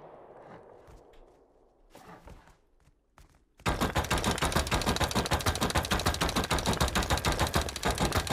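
In the video game Rust, after a few scattered thuds, rapid automatic gunfire bursts in loud and sustained, a dense stream of shots lasting several seconds.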